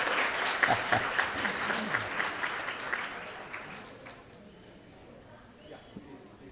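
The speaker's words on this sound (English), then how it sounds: "We can keep the claps going, I'm sure." An audience applauds the chief guest at an Ahmedabad entrepreneurship program event: dense clapping from a crowd, loud at first, then thinning and fading over a few seconds to a quieter room with scattered claps.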